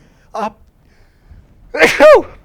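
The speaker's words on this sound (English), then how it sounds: "That's the first time I think I've ever sneezed on the air." A news presenter on a live broadcast makes a brief sharp intake of breath and then lets out one loud, close sneeze in a quiet studio.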